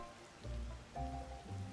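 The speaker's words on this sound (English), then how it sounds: "No way, not with all this rain," Rain falling steadily in Zelda: Tears of the Kingdom, a soft constant patter with low game music tones swelling underneath.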